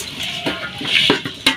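Rice and lentil khichuri cooked with beef fat being stirred in a pot, a few distinct scraping and clinking strokes over a faint sizzle, close and without talk.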